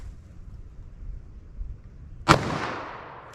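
One sharp, loud .357 Magnum shot fired with Federal old-school ammunition, a sudden crack that trails off into a decaying echo over the next second, after a quiet stretch of faint background rumble.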